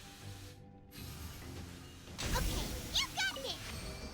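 Mechanical clanking and ratcheting from a jamming machine in Genshin Impact, a dull grinding layer with sharper metallic clicks in the second half, mixed with game effects and talk.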